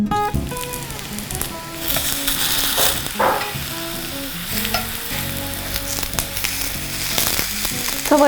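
Eggplant pieces fry loudly in oil in a pan, a dense, continuous sizzle with occasional stirring scrapes and crackles, close up, with background music underneath.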